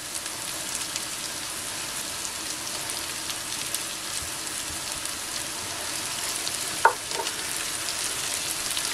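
Tomato paste with plenty of garlic and a spoonful of sugar sautés in a pan, giving a steady, close frying sizzle with a light crackle throughout and one brief sharper clink near the end, with no talking.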